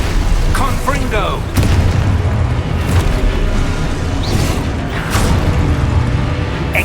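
Deep booming blasts of the Confringo explosive spell in Hogwarts Legacy, several rumbling bursts over continuous game sound, loud and full.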